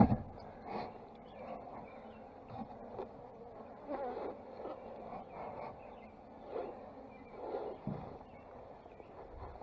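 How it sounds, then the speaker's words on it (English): Bees trapped inside a feeder buzz in a low, wavering drone with repeated swells in loudness, fairly close and heard alone without talk. "Luckily, there were just bees caught in the feeder."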